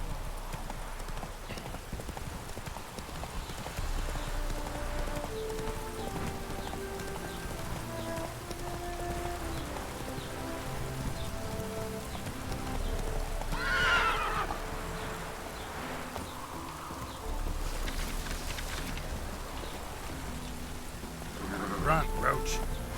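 In The Witcher 3, a horse gallops in a steady clip-clop of hooves alongside rain-like patter and a whinny. Game music and a man's speech run over it.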